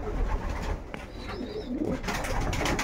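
Well-fed pigeons cooing softly nearby, low throaty coos over a steady background rumble, with no talk.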